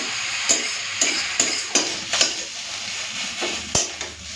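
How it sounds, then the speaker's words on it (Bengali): Grated beetroot frying in a pan with a little sugar as the water cooks off, a soft steady sizzle broken by regular scraping strokes of a spatula stirring against the metal, roughly every half second. "এইভাবেই এখন বিটটাকে ভাজা ভাজা করে নেব।"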